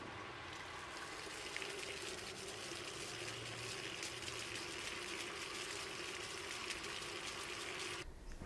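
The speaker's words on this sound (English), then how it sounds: "I saw water flowing from both the high and the low pressure" Steady broadband rush of water running from high- and low-pressure garden taps fed by a newly installed garden water pump, continuous and fairly close for the whole stretch before cutting off abruptly at the end.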